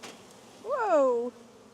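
Honey bees building honeycomb make a short, close buzzing drone with a clear rising-then-falling pitch, lasting about half a second over a quiet hum.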